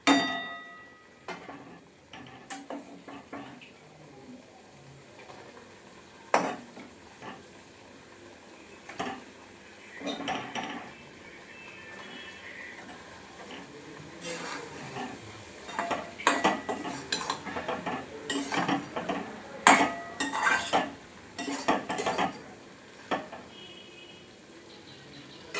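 Fried cauliflower being stirred into a cashew masala in a pan, with repeated scraping and clinking of a spatula against metal, uneven bursts of loud clatter over quiet kitchen background.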